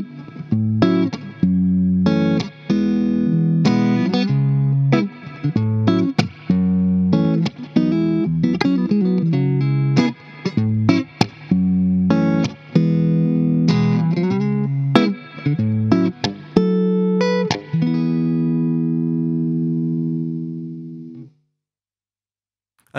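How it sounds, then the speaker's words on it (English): Engl 30W electric guitar amp on a clean tone: a run of picked notes and strummed chords, close and clear, ending on a ringing chord that fades out. "let's see how the guitar sounds with a clean tone"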